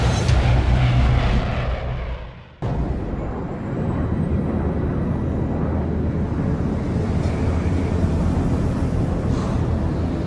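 Airplane cabin in flight in the Splinter Cell video game, a loud low engine rumble that briefly drops out, then returns as a steady droning hum with a faint high whine above it.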